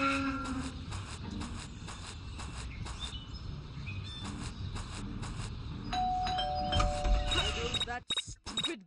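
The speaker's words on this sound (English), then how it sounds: "That stupid bell again." Doorbell in the video game Scary Teacher 3D, ringing with a few bright chimes near the end of the clip over game background sound, with soft clatter and small noises scattered throughout.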